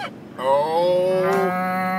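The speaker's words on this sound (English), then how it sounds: "And on that farm he had a cow" A cow on a farm gives one long, loud moo that stretches over most of two seconds, close and clear with no talking.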